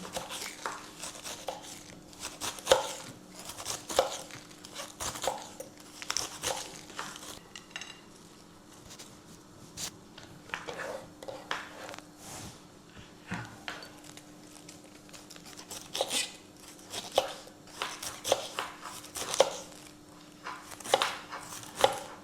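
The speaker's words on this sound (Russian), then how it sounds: "И вот так вот тоненько нарезаем." A knife slices cabbage thinly for borscht, giving repeated quiet crisp cuts and board taps in irregular bursts against a steady low background hum, with no talking.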